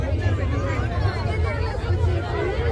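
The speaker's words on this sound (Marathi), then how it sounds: "चांगली गर्दी आहे." Dense crowd hubbub at the Kalyan Mahotsav festival, a steady babble of many voices close around with nearby people talking over it throughout.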